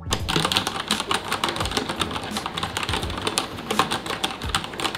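Typing on a Vortex Tab75 keyboard fitted with dampening rings, a steady run of rapid, crisp keystrokes with occasional heavier thocks, close-up with no talking.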